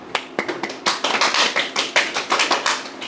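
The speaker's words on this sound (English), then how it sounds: "let's give them a big applause" A small audience claps after a lecture presentation on diffusion, a sparse, uneven patter of individual hand claps, fairly close and dry, with no talking over it.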